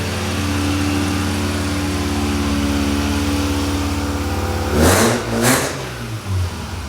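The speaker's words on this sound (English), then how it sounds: "I don't know how well you can hear me, but it's a little raspy." A Mazda RX7 engine with a raspy Pacesetter exhaust idles steadily in a garage, then gives two quick, loud revs near the end before settling back.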